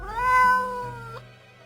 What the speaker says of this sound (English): The cat answers with a meow of uncertainty.